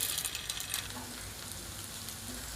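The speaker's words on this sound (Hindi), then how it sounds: "तवा और ऑयल दोनों अच्छी तरह गरम हो गए हैं। अब मैं एक एक करके रखूँगी।" Gola kababs laid one by one on a hot oiled tawa, giving a soft, fairly quiet sizzle with a brief brighter hiss at the start, then a low steady fry with no talking.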